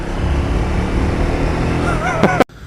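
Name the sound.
Triumph Speed 400 motorcycle riding through a tunnel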